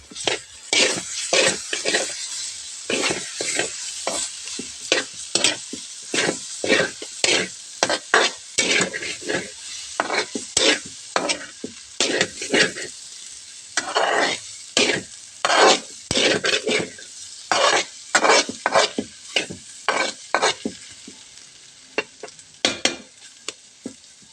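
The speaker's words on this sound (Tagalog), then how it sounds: "Haluin mo lang siya." Pinakbet vegetables with egg are stirred in a hot frying pan, producing loud, close, rhythmic scraping strokes of a spatula over a steady sizzle, repeated throughout with short pauses and no speech.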